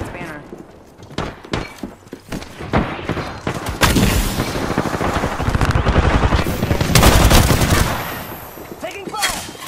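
Video game gunfire rattles in dense automatic bursts and single cracks, near and loud, building into sustained volleys, with voices calling out between the shots.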